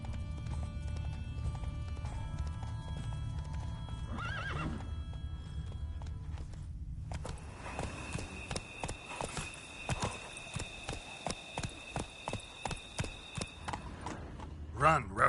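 A horse gallops in The Witcher 3 video game, rhythmic hoofbeats that start after a quiet stretch and repeat steadily and loudly, with a whinny and a spoken voice earlier in the scene.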